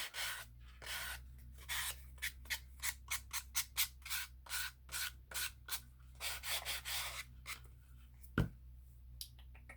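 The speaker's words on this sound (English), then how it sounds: "your sanding block will make those corners just a little bit smoother." A sanding block rubbed back and forth over the cut corners of a paper craft, smoothing bumps left by scissors; a quick series of close, dry, scratchy strokes in an uneven rhythm over a steady low hum, with one sharp tap near the end.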